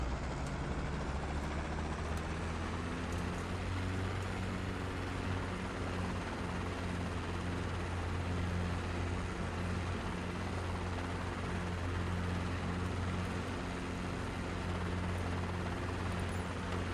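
A helicopter in Microsoft Flight Simulator 2020 drones continuously with a steady rotor thrum and low engine hum, loud and unbroken throughout.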